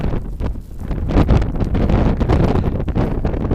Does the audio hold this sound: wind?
yes